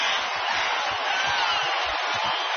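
A basketball arena crowd at the NBA Finals, Game 5 in 2014, keeps up a steady, dense roar of cheering, with many fans on their feet, sustained and fairly loud with no clear breaks.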